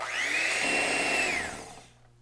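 An electric mixer whirs steadily through protein cheesecake batter with sweetener and vanilla, holding a high motor whine for about a second and a half before spinning down and stopping.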